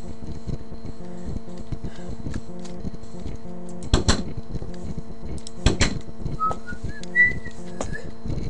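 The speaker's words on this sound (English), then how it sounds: "I'm whistling that again." A person whistles a short tune of a few rising notes near the end, over a steady background of looping music tones and occasional sharp clicks and knocks from a blocky sandbox video game.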